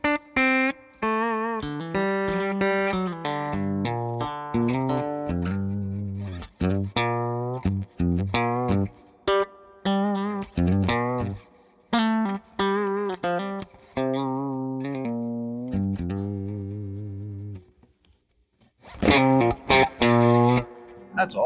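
An electric guitar played through a Nobels ODR overdrive pedal set aggressive rings out in distorted single notes and chords, up close and loud, with short pauses between phrases and a gap near the end.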